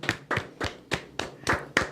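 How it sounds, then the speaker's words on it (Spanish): A few people clap in praise of Christ, slow rhythmic claps of roughly three per second, close and distinct, with no talk over them. "Un aplauso a Cristo."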